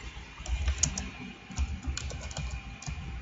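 Quick typing on a computer keyboard, irregular bursts of sharp, close key clicks with a few heavier thumps, steady throughout with no talk.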